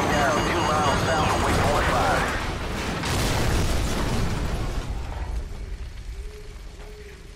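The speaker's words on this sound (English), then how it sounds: "Incoming missile!" A missile explosion in Call of Duty 4, a loud, sustained roaring blast with debris and rumble that holds for a few seconds, then gradually fades into quieter game ambience with faint tones.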